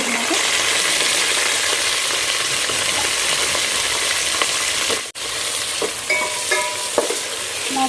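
Chopped onions, green chillies and curry leaves fry in a pan for chicken biryani, a continuous close sizzle broken by a few scraping clicks as the spoon stirs them.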